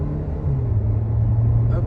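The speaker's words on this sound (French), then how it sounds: "je vais accélérer un tout petit peu plus et freiner un tout petit peu plus" A Renault Captur hums on the road with a steady engine drone, its tone climbing slightly as it speeds up, loud and close from inside the car.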